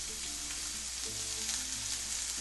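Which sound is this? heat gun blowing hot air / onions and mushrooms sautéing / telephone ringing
onions and mushrooms sautéing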